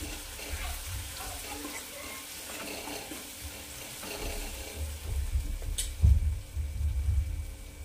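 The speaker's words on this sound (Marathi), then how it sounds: "1 ते 2 मिनिट झाले, मी असे छान परतून घेत आहे।" Rajma masala base of onion and spices sautéing in a pan, giving a low, steady sizzle with intermittent stirring scrapes and a louder clatter near the end; no talk.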